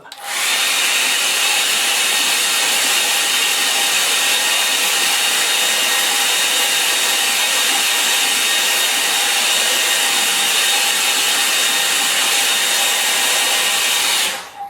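A hair dryer blows on a painting, a loud, steady, unbroken whoosh that runs close to the mic for the whole stretch and then cuts off, with no voices over it.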